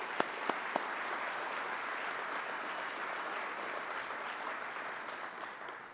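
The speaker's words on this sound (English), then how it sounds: "So let's give them a round of applause." An audience at a women's basketball press conference applauds steadily throughout, a dense wash of clapping with a few sharp claps standing out at the start.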